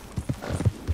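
Horse hooves clip-clop in Red Dead Redemption 2, a handful of low thuds at an uneven galloping rhythm, close and moderately loud, with a possible brief whinny mixed in.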